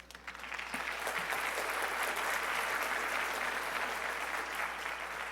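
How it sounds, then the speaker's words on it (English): An audience at a Bharatanatyam arangetram dance performance applauds the dancer, a sustained, even roar of many hands clapping in a large hall over a low steady hum. "let us give her a very big round of applause"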